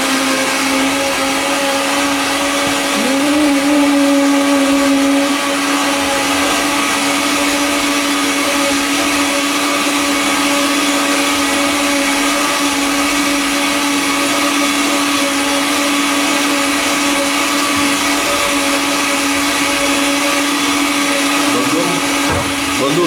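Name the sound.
blender mixing coffee with milk and protein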